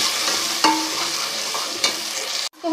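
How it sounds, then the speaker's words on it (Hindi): Onion and green chili paste frying with ginger garlic paste in a pot, steady hissing sizzle punctuated by two sharp spatula scrapes, cutting off abruptly near the end. "अब हम प्याज और हरी मिर्च वाला पेस्ट इसमें डाल देते हैं, ठीक है, और इसको अच्छे तरीके से फिर दोबारा से फ्राई करते हैं।"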